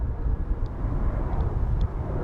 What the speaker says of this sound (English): And I think it's actually Ryanair's oldest aircraft at 19 years old.